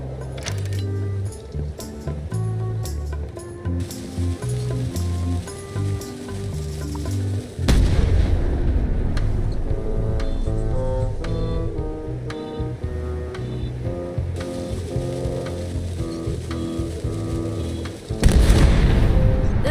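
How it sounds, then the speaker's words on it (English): Deep booming cannon blasts and crackling bursts in Return to Monkey Island pile up over a loud, busy game soundtrack, with a heavier volley surging near the end. "Ready for cannon firing."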